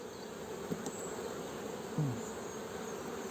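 Honeybees buzz steadily around a mini-plus beehive during a winter check, a low continuous drone with a few louder passes close by, and no talking.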